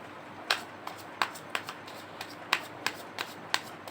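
Tarot cards being shuffled by hand, a series of about nine crisp riffling snaps at uneven intervals, close and clear against a quiet background with no talking.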